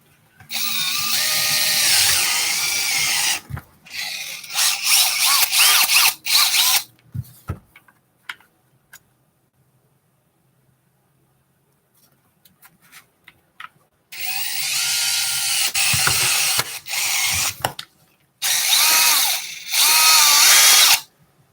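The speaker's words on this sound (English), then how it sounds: "Let's drill it." A power drill whirs in several loud bursts while drilling a pistol frame at the belt line during a Walther PDP build, separated by a long quiet pause, with brief handling clicks between runs.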